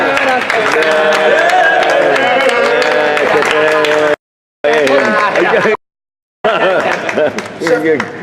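A studio audience applauds and cheers steadily for guests returning to a show, a loud, continuous wash of clapping with voices mixed in, cut by two brief dropouts.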